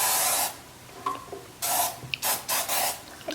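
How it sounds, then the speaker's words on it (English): Bursts of non-stick cooking spray from a can hiss onto a pan, one long spray and then several short sharp ones with brief pauses between, close and loud. "I'm gonna grease it a little bit with this non-stick cooking spray"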